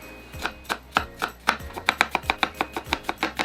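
A knife finely chops onion on a cutting board in close, crisp strikes, starting slowly and then speeding into a rapid, even rhythm of about a dozen chops.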